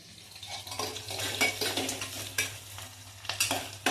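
Onion fries in a pan while being stirred with a spoon, a moderate sizzle punctuated by repeated metallic scrapes and taps, rising and falling in uneven bursts close by.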